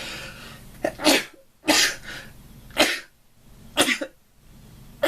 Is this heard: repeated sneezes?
yes